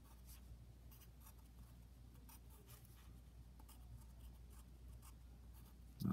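Pen scratching faint, rapid strokes on a paper map during a geography workshop, a soft, dry, steady rubbing close by with no speech.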